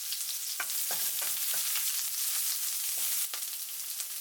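Chopped onion sizzles steadily in hot sunflower oil in a pan, a constant bright frying hiss broken by several soft scrapes and knocks of a spoon stirring, close up and with no talking.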